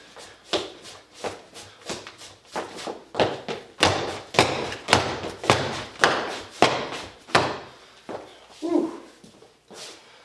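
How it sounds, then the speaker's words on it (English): Footsteps of Melbourne Shuffle running man and heel bounce dance steps, a steady series of sharp thuds and shuffles in a quick repeating rhythm, close and fairly loud, with no talking. "if I put it all together, what we've done so far, it would look like this"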